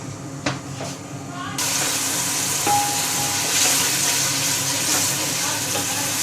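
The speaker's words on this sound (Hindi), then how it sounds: "प्याज और टमाटर को थोड़ा सा हम भून लेंगे।" Onion and tomato fry in oil in a pan as a cooking base for arvi baingan, a steady close sizzle that swells louder partway through, with a few utensil clinks and a voice talking over it.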